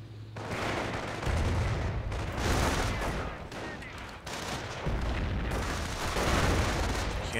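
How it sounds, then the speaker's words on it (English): Nebelwerfer rocket artillery firing in Company of Heroes, a sustained barrage of booming launches and blasts rolling on continuously, with a faint voice underneath. "Hear those Nebelwerfers going off."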